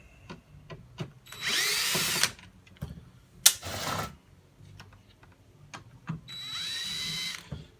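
A power drill unbolts parts from a scrapped aluminium and plastic car radiator, with several loud, close bursts of whirring spin separated by metallic clicks and handling knocks.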